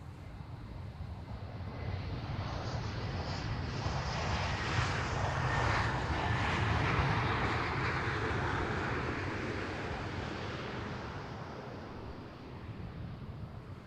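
A KLM passenger jet passes at Amsterdam Schiphol Airport, a broad roar that swells gradually toward the middle and fades, heard at a distance with wind noise.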